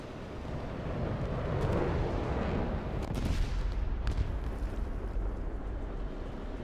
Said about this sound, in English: So I'll drop artillery on him.